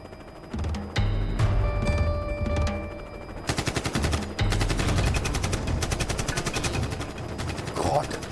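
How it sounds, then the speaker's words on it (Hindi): Gunfire aimed at a helicopter in an Indian TV drama: scattered shots first, then rapid machine-gun bursts rattle loudly through most of the scene, with voices and battle noise mixed in. "ते हेलीवर फायर करतात."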